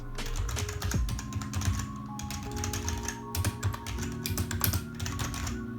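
Typing on a Haiz HZ400 semi-mechanical gaming keyboard, a quick uneven patter of close, light keystrokes with occasional heavier taps, steady throughout with no voices.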